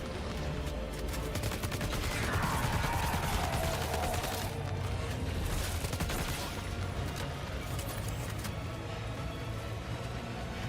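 Dense video-game gunfire fills the whole stretch, rapid overlapping shots and bursts from several weapons, loud and continuous, with a short whistling sweep early on and no talking.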